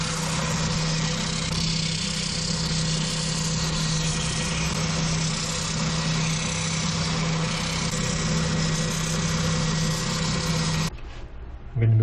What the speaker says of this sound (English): Just go around over these corners with my spindle sander.